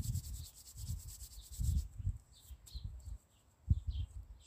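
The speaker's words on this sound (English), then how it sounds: "Shaking off, rub in between the fingers" Soft skin rubbing between the fingers during a lymph self-massage, quiet repeated strokes in an uneven rhythm, close and faint, with faint bird chirps in the background.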